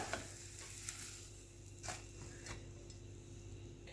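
An egg frying in a pan gives a soft, steady sizzle with faint crackles and a few light scraping touches, quiet and close, with no voices.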